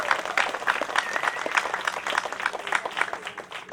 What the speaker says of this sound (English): How about another round of applause for Heather and all of the amazing staff here at Shanty?